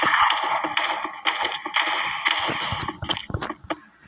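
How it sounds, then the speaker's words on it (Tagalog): Sharp gunfire cracks from a sniper rifle in a shooting video game ring out in quick succession over busy game noise, with several loud bursts in about four seconds. "Nag-i-sniper sa taas."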